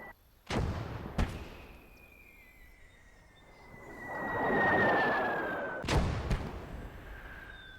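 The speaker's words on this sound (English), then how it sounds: "Fire a HE shell." In a World War II tank video game set at Villers Bocage, sharp booming cannon shots ring out, two close together early and two more later, with a rumbling swell and a thin whistling tone drifting between them.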